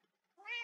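A small cat in a video game gives one short, clear meow that rises out of near silence and ends abruptly.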